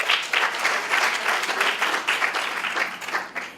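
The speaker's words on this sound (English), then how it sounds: "May you give them yet another round of applause." An audience gives a round of applause at a national JCI Botswana gathering, with dense, continuous clapping heard alone for several seconds before it starts to fade.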